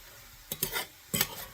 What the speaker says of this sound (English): I'm kind of like toasting, as you can see this garlic.